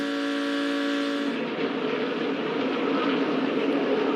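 Race cars come off turn 4 at Daytona on the last lap of the 2019 Lucas Oil 200. A loud, steady engine whine gives way to a broad, continuous roar as the pack sweeps past, with no talking.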